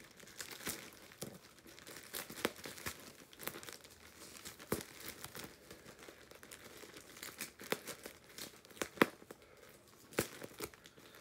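Paper and packing tape crinkling and tearing as a taped mail package is unwrapped by hand, with close, irregular rustles and sharp rips throughout and no talking.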